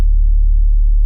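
A synth sub bass with its second harmonic added, giving a steady, loud, low tone with a slight pulsing growl. It sounds alone, with no voices.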